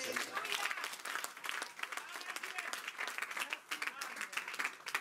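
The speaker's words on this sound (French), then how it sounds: "Oh, donnons une acclamation." Congregation applauding in a church during a sermon, a dense steady wash of clapping that carries through the whole stretch with scattered cheers, fairly close and even in level.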